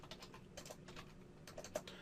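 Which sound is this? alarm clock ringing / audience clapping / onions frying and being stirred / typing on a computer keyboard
typing on a computer keyboard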